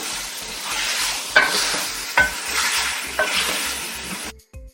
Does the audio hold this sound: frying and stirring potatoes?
yes